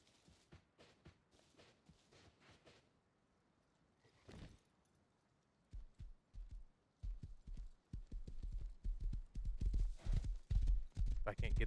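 Horse hooves clip-clop across the ground in the survival game Rust, a run of quick, even hoofbeats that starts faintly, then grows louder and closer, with a few scattered footstep-like taps earlier.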